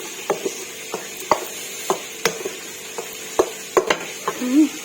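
Apple snail salad with toasted rice powder is tossed together in a bowl, giving a series of sharp, irregular clinks and scrapes against a quiet background, with a brief voice near the end.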